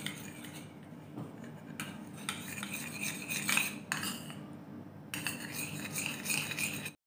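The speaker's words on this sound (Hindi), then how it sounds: "एक चम्मच आपको शहद लेना है और इसे भी अच्छे से मिक्स कर देना है इनके साथ" A spoon mixing honey into a face pack in a bowl, with quiet scraping and clinking of metal against the bowl in several separate strokes, close up, with pauses between them.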